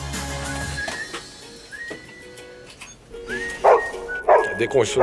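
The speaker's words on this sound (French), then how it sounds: "C'est mon chien, dès qu'on siffle, il est comme ça." A dog barks and yips sharply several times close by, reacting to whistling, with people talking around it in a radio studio.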